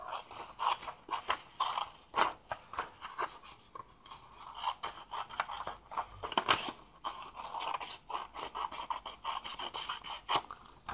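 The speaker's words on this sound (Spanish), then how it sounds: "Vamos a cortarlo en primer lugar." Scissors snip through a half sheet of paper folio being cut lengthwise for a paper chain craft, giving a close, steady series of crisp rasping cuts with short pauses between strokes, no voices present.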